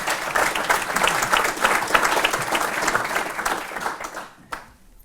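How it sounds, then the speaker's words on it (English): Loud, warm applause from a symposium audience welcoming a speaker to the stage, dense clapping that holds steady for about four seconds, then dies away with a final clap. "Give him a warm applause."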